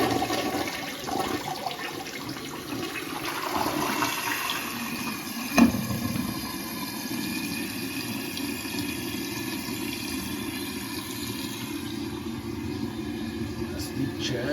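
A toilet flushes with a newly replaced fill valve, a steady rushing swirl of water that runs throughout at close range, with one brief knock partway through and a voice talking over it.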